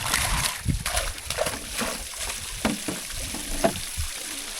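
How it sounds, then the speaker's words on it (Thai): Water in a deep-forest village sloshes and splashes close by, in uneven bursts over a steady watery background, where someone is fetching water at a flowing source. "เบิ่งน้ำเพิ่นไหลบ่หยุดบ่หย่อนเลยเนาะ"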